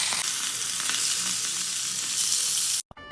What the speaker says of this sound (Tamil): அதை வந்து நம்ம டீப் ஃப்ரை பண்ணுவோம்.